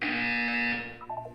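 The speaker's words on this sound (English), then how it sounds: "You will hear a buzzer." A steady electronic buzzer tone from the video game Portal 2 sounds loud and alone for about a second, then tapers off into a few short softer blips.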